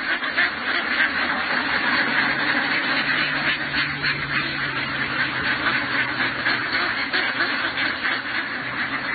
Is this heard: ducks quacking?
yes